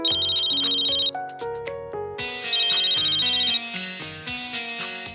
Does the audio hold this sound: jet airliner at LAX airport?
no